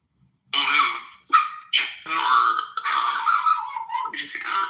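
A dog barks and yips in several sharp, loud bursts close to the microphone, in a quiet room with no talking over it.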